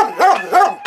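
A dog in a shelter yard barks loudly and close, giving three sharp barks in quick succession.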